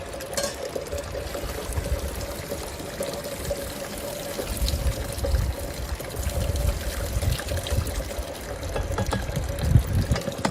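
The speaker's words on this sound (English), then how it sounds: "Time for the patented sparge arm, which is just a colander, and we get to use this to make sure that it stays nice and wet on top" Water pours steadily through a colander used as a sparge arm onto grain while homebrewing an American amber ale, a continuous close trickle and splash with no talking.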